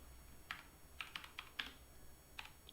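A command is typed on a computer keyboard: about eight quiet, crisp key clicks in an irregular rhythm, heard close and alone against faint background hiss.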